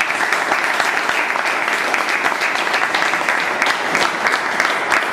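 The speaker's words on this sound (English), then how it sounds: "Give them a big round of applause" Loud, sustained audience applause from a large crowd, dense and even throughout with no pause.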